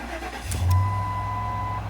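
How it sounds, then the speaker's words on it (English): A Ford car with a broken ignition lock cylinder starts up: a short crank catches about halfway through, then settles into a steady low idle with a thin, steady tone above it. "Vehicle just started."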